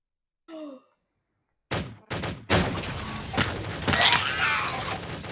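Gunfire rings out as players shoot each other in the video game Shell Shockers: a brief sigh-like vocal sound, then a dense, loud burst of rapid shots that keeps rattling on.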